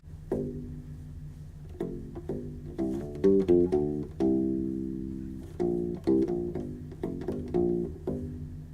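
A U-Bass plays a melodic fill alone, a run of plucked notes with uneven rhythm and a few sustained tones, clear and close.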